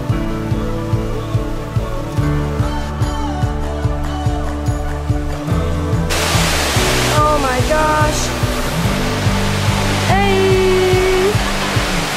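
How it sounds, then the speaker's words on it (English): A loud, steady rush of falling water from a waterfall in Hawaii fills the scene, with a rhythmic musical pattern underneath and a few brief whistling tones. "we at the waterfall, it's beautiful."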